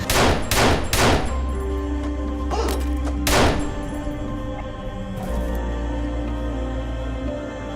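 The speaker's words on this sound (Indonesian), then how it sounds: "Daniel berhasil meraih pistolnya yang terjatuh lalu menembak pemimpin topeng hitam" Pistol gunshots in a sniper action film, several loud sharp bangs, three in quick succession and then two more, over a low droning film soundtrack with no talking.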